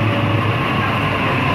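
Liverpool-bound suburban train pulling into a Sydney station platform at Cabramatta, a steady loud low rumble and rolling hum of railcars, close and continuous without speech.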